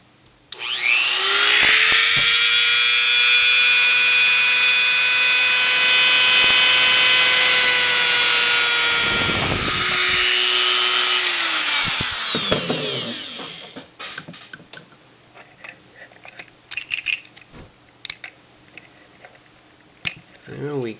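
A small high-pitched rotary power tool whines steadily for about twelve seconds while trimming a plastic action figure's arm, close and loud, then winds down into scattered clicks and faint handling noises.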